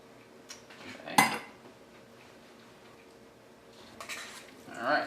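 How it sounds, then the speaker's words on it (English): A utensil clinks against a bowl while black bean burger mixture with egg white and lime juice is stirred, giving a few sharp, separate knocks between quiet, soft scraping. "we're going to begin to stir this mixture together"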